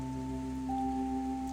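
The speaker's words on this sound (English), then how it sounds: "It's raining now" Steady soft rain falling in the video game Please, Touch the Artwork, a continuous gentle hiss under low steady tonal hum, with no voices.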